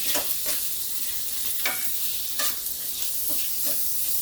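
Chana dal with tomato and spices cooks in a pan, stirred with a spatula: a soft constant sizzle broken by several distinct scraping strokes at an uneven rhythm, close and clear, with no voices.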